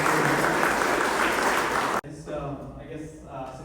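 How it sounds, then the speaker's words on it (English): Meetup attendees at a Toronto AI event clap for about two seconds, loud and even, then it cuts off sharply into quieter room sound with a voice starting to talk. "Just a quick round of applause."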